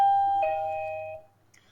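A smart lock's built-in doorbell plays a two-tone electronic ding-dong chime, clear and close, then fades out.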